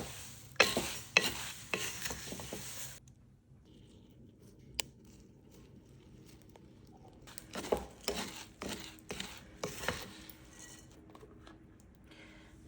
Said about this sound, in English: I'm gonna stir that around before we add the liquid to it.